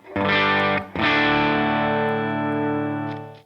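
A Les Paul electric guitar plays a clean tone through a miked amp, with a struck chord that rings out, a brief break, then a second chord sustaining and slowly fading.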